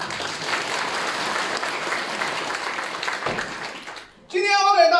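Sustained loud audience applause fills a Deyun Society crosstalk show in Beijing for about four seconds, then fades abruptly as a performer's voice takes over at close range.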